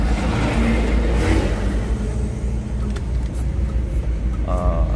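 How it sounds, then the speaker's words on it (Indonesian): A sand truck rumbles past on the road, heard as a loud, steady roar of engine and road noise from inside a moving BMW E36 320 touring car. "Nah ini truk pasir juga ini."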